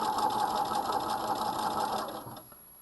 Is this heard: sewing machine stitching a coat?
yes